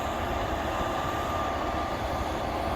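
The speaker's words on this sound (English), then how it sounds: "Look at all the people on that train." A mountain train on the Presidential Range near Mt. Madison rolls past, a steady, continuous rumble and rattle of rail cars that holds at an even, fairly loud level with no voices.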